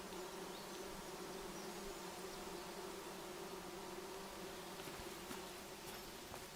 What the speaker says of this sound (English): I think I heard bees or something there.